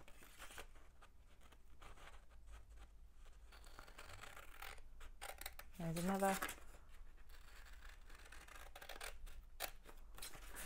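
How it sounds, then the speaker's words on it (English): Repeated soft snipping and crisp paper rustles from hand scissors cutting out pop-up card pieces, close by, with a brief spoken phrase partway through. "I'm going to use my hand scissors, and I'm going to cut around these."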